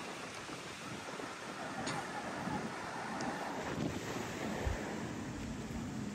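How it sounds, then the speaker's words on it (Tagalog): Strong wind gusting across Tenby beach in Wales, a steady broadband roar buffeting the microphone, with distant surf washing underneath throughout. "Malakas ang simoy ng hangin."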